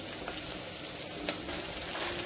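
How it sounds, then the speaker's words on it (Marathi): Tomatoes and red chili powder sautéing in hot oil tempering for spicy varan: a steady, close sizzle with faint crackles throughout, no voices. "टमाट्याला पण छान परतून घ्यायचे फोडणी।"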